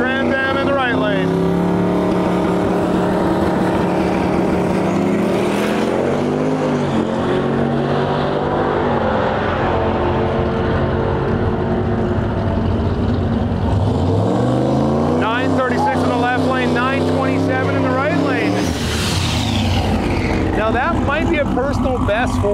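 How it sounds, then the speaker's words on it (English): An autocross Chevrolet Nova and a Trans Am race side by side down a drag strip, engines roaring loud and sustained with rising revs and gear changes, crowd and announcer voices mixed in throughout. "the autocross Nova's in the left lane. Trans Am in the right lane."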